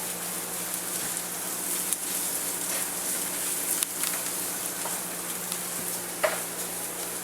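Tomato paste frying in a pan while being stirred, giving a steady soft sizzle with occasional scraping clicks from the utensil, close by and alone with no talk.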